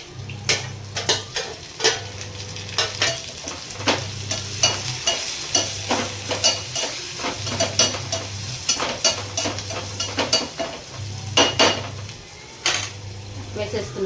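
Curry leaves and green chilies fry in a pan with a steady sizzle, while a utensil scrapes and stirs in a regular rhythm of clinks and taps, all close up.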